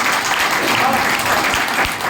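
Steady applause from a crowd at a company cheque celebration in Gurgaon, continuous clapping filling the whole stretch at a loud level.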